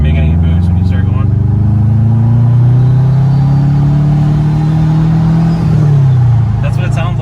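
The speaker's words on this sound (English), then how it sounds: "Get that real Subi rumble. Listen to this." A Subaru car engine rumbles loudly and close, its low throbbing tone climbing slowly as it revs, then dropping back near the end.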